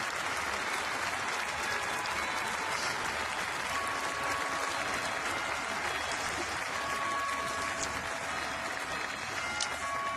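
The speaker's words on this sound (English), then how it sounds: "and to standing applause from the guests in the hall today." Standing applause from guests filling the hall at the 2012 Nobel Peace Prize award ceremony, a dense, steady wash of clapping sustained evenly throughout with no voices over it.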